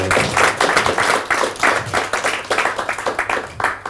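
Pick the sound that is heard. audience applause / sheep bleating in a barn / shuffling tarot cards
audience applause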